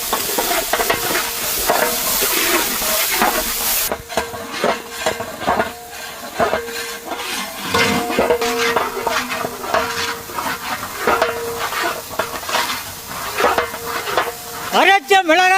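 Chopped tomatoes stirred into mutton masala frying with green chilli and ground ginger-garlic paste, a steady close sizzle with repeated scraping stir strokes and pan clatter throughout, alone without talk.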